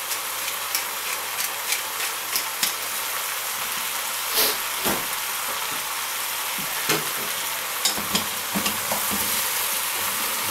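Tartiflette ingredients seasoned with salt and pepper being stirred in a frying pan, with a steady close sizzle and repeated scraping strokes of the utensil throughout, no talking.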